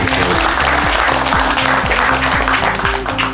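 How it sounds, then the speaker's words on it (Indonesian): A crowd claps steadily and densely for a government minister at an outdoor land-certificate handover ceremony in Taman Narmada, Bali, with a tonal music-like drone running underneath throughout. "Tepuk tangan Bapak."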